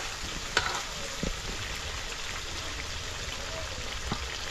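Onions fry in a pan during village self-cooking, giving a soft, continuous sizzle with occasional crackles and stirring scrapes, with faint voices in the background.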